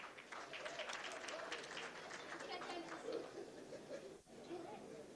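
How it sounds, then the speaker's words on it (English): An audience at a ceremony applauds an officer with steady, dense clapping that runs throughout and dips briefly near the end, mixed with crowd murmur. "Please clap for him."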